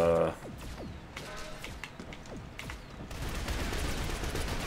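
Video game gunfire crackles in quick repeated bursts and rattling volleys at moderate loudness under a busy mix of game effects, with no talk.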